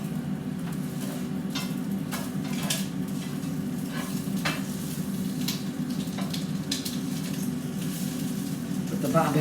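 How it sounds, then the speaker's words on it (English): Bob Evans sausage links frying in a pan in a home kitchen, a steady soft sizzle running throughout with occasional clinks and scrapes of utensils against the pan as the links are turned. "With the Bob Evans sausage, the links, they kind of like roll around, so you got to keep rolling them over and over"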